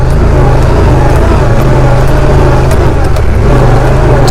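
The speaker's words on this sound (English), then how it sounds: "I'm shifting to manual transmission and doing it on the sticks." A Honda Pioneer 1000 EPS UTV engine running steadily up close with a manual transmission, giving a loud, continuous droning hum and slight rises in pitch, with no talking.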